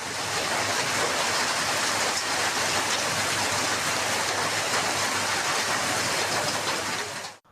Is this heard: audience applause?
no